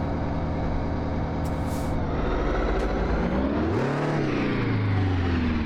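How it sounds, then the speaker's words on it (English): Detroit Diesel 8V92 truck engine in American Truck Simulator, a loud, continuous diesel drone with an air-brake style hiss partway through, then the engine revving up and settling back down. "Ooh, Detroit diesel. 8V92."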